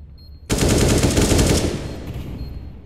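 Rapid automatic gunfire in Counter-Strike: Global Offensive, one sustained burst of about a second and a half that bursts in abruptly, loud and close, then tails off.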